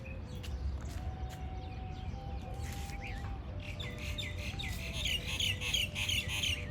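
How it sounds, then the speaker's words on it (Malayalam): Birds chirping and squawking in a natural outdoor setting, with scattered calls over a steady low rumble and a faint whistling tone, the chirps thickening toward the end. "കിളികളുടെയും പക്ഷികളുടെയും നല്ല മധുര സംഗീതമൊക്കെ ആസ്വദിച്ചുകൊണ്ടിരിക്കുമ്പോൾ"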